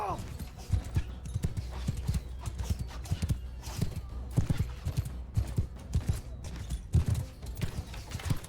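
Cavalry horses galloping in the video game Bannerlord give rapid, continuous hoofbeats that drum loudly and closely throughout, with battle noise and shouting voices mixed in.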